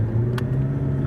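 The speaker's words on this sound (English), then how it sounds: "we're driving through the town centre now" A McLaren 12C Spider driving through a town centre, its engine a steady low hum and rumble with one brief sharp click partway through.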